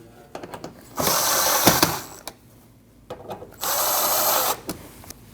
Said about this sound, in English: Now you can tighten those 2.